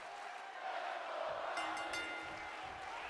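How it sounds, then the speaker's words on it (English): Crowd cheering and shouting at a live independent wrestling main event, a broad sustained roar of many voices that swells after the first second and stays loud throughout. "The crowd behind Roxanne Perez to start this one off"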